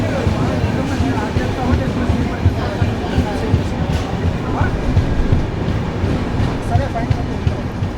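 The Tirumala Express pulls out of Rajampet station, a loud, steady rumble of wheels and carriages rolling continuously close by, with faint voices mixed in.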